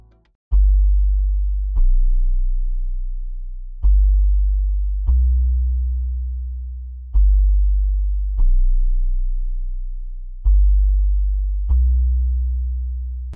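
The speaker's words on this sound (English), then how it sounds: "Next I added a bass line from Serum." Deep Serum synth bass notes hit one after another in a slow pattern, each swelling in and fading, clean and sustained with nothing else playing.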